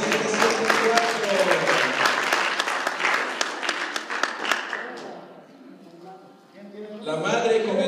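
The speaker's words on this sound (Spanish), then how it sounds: "un fuerte aplauso" Audience at a Mother's Day celebration claps loudly and continuously for about five seconds, then falls quiet before a voice speaks over the room.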